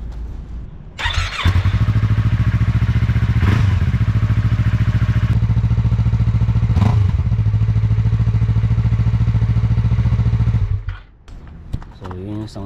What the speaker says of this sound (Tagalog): So yun yung sounds niyan pag wala siyang slip on